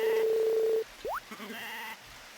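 A sheep bleats in a farming video game, a sustained steady tone up front followed by a shorter second call, alone with no talk.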